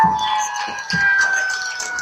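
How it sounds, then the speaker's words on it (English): Walkersville Fire Department fire trucks sound their sirens at a high school football game, a steady high wailing tone held across two seconds, moderately distant, over faint crowd noise. "You hear the sirens go off on the fire trucks from the Walkersville Fire Department celebrating that last score"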